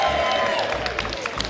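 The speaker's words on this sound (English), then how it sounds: "Give us a cheer." Audience aboard a cruise ship cheering loudly, a continuous roar of voices with a few claps rising and falling across a short burst.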